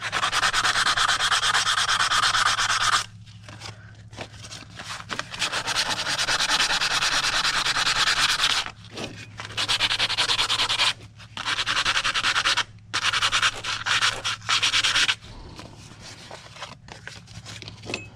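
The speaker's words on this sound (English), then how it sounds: "So we keep sanding this until" Rhythmic abrasive rubbing of sandpaper across a surface, close and loud, in long strokes broken by several brief pauses.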